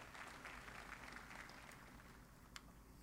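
Spectators applauding at a snooker match in Snooker 19, a soft, steady patter of clapping that fades toward the end, faint and with no voices.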